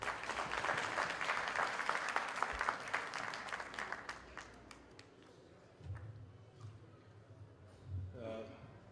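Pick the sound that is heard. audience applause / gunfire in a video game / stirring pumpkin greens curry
audience applause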